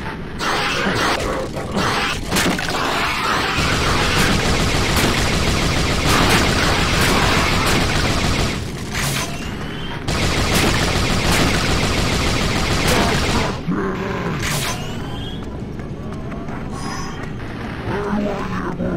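Heavy, relentless pounding and crashing against a door in the video game Resistance: Retribution, loud and dense throughout with brief lulls, mixed with gunfire-like bursts and no talk over it.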